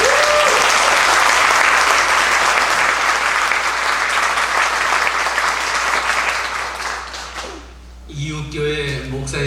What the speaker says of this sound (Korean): 크게 박수로 환영합니다